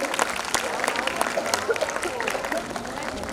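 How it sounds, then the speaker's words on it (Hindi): Loud audience applause for the children at a school annual function, a dense, steady wash of many clapping hands with crowd noise and voices mixed in. "एक बार और जोरदार तालियां हो जाए बच्चों के लिए।"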